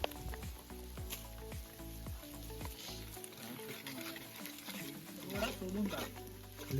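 Mutton hits a hot pan and sizzles while being stirred, giving crackling, pattering frying sounds and scraping stirs at an outdoor party cookout, with people chatting over it.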